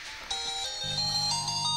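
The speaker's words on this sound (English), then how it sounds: "And that was my ringtone" A phone ringtone plays a steady, tonal electronic melody that begins abruptly after a brief lead-in and continues in sustained layered notes, fairly clear and alone.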